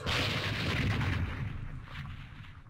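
Mortar rounds in the Vietnam war strategy game Campaign Series Vietnam land in a deep, rumbling blast that rolls on and slowly fades, heard alone without talk.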